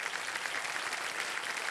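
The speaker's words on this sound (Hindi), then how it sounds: "बहुत बहुत स्वागत तालियों के साथ इनका।" Studio audience on a television quiz show applauds steadily to welcome a contestant, a dense, even wash of clapping that holds at full strength throughout.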